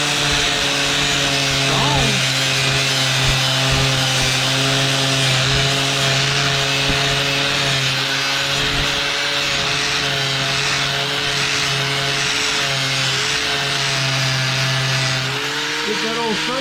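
A power tool grinds paint and surface rust off a 1968 Ford F100, a loud steady whine with strong harmonics running nearly the whole time and briefly dipping in pitch under load near the end; someone talks over it at times.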